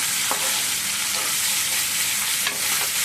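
Vadiyam frying in a pan with tomato and onion, stirred as it cooks: a steady broad sizzle fills the whole stretch, with a few sharper scrapes of the spoon against the pan, close and alone without talk.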